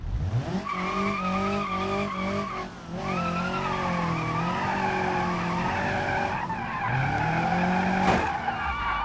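A car drifts in a racing video game with a long, steady tire squeal and shrill skid tones that hold and waver over the engine for the whole stretch.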